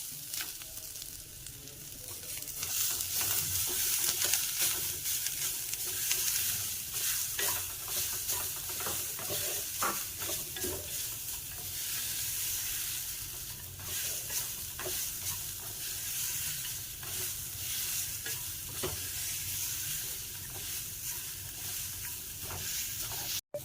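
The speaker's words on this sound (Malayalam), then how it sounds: "അപ്പം നമ്മുടെ തേങ്ങ ഒന്ന് ചെറുതായിട്ടൊന്ന് റോസ്റ്റ് ആയിട്ടുണ്ട്." Grated coconut roasting in a pan, a steady soft sizzle with frequent scraping and rustling as a spoon stirs it, close and continuous.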